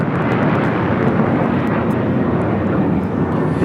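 A United Boeing 737-900ER airliner bound for Houston roars steadily at an airport, a loud, dense engine rumble with no pauses that stays constant throughout.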